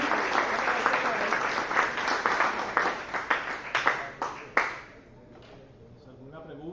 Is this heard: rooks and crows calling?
no